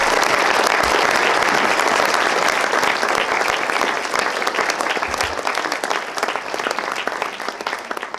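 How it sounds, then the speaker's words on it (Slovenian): Dense, sustained applause from an audience at a 2023 summer museum night event at a castle, loud and steady throughout with no voices over it. "En aplavz za vse vas."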